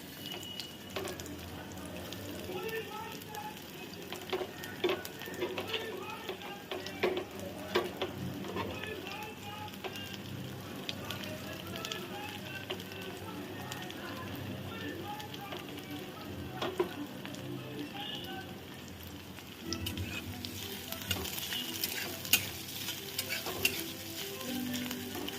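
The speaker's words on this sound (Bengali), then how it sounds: "পেঁয়াজটা একটু ভালোভাবে ভেজে নেব" Chopped onion fries in hot oil with a steady, dense sizzle and crackle that runs throughout, joined by occasional stirring scrapes and a voice talking now and then over the cooking.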